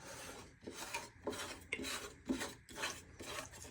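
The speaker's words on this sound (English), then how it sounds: "then you can start screwing this back on" A Kinetico water filter housing being screwed back on, heard as rhythmic rasping, grinding turns repeated about six times, quiet and close, with no talking.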